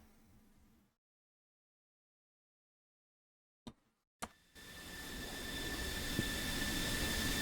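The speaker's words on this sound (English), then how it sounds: "There we see Yanyu lead the way down the runway." JF-17 Thunder jet in a flight-sim game rolls down the runway, a broad engine roar swelling in after brief silence and two sharp clicks, then holding steady and loud with a thin whine on top.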